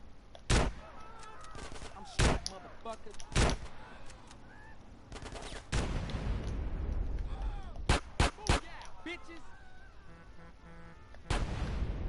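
Sharp, loud gunshots ring out in GTA San Andreas, some single and some in quick clusters, with rattling automatic fire between them and quieter game sounds in the gaps.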